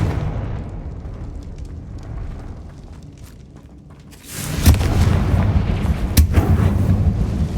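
Confringo fire spell blasting in the Hogwarts Legacy game, a sudden heavy boom cutting through a low rumbling ambience, followed by sustained crackling roar and a second sharp burst.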